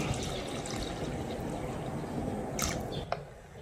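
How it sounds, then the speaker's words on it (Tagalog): Water pours into a pot of rice for tinola rice, a steady splashing gush lasting a few seconds, close and fairly quiet, ending with a couple of small drips. "Ibuhos na natin yung ating tubig."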